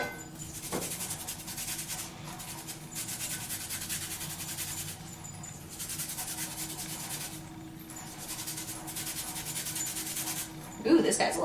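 A lemon's zest scraped off on a grater, a series of rhythmic rasping strokes up close, each lasting about a second with short pauses between them.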